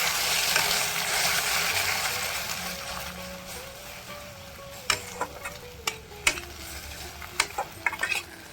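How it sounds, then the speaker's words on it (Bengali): A frying sizzle hisses loudly at first and gradually fades, then sharp, irregular scraping taps of a utensil stirring in a pan follow. "এই দেখুন ডিমটা আমার ভাজা হয়ে গেছে"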